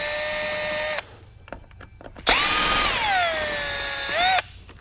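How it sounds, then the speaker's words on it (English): A power screwdriver backs Phillips screws out of a 2006-2008 Dodge Ram truck seat cushion: a short steady motor whir, a few sharp clicks and taps, then a longer whine that slows and drops in pitch before cutting off. "Take them loose, grab your screwdriver,"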